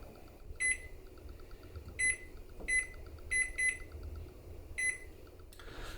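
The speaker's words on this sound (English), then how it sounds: "we're going to set our timer for 1 hour" A kitchen timer being set while chicken simmers on the stove gives a series of short, high electronic beeps, single and in pairs, over a low steady hum of the kitchen.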